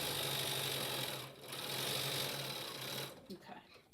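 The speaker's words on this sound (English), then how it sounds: "I'm going to put the top 1/4 inch that I've sewn channel just above the fold line and sew that down" A sewing machine runs steadily, stitching a quarter-inch channel in a fabric face mask, giving a close, loud, even whirring hum that pauses briefly and then stops near the end, with a voice speaking at the close.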